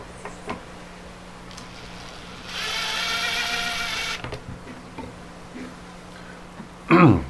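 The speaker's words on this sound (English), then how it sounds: "I will take a thin drill and pre-drill the wood" A thin drill bit bores a pilot hole into wood, a short steady whine lasting a few seconds, followed by quiet handling clicks and a sharper knock near the end.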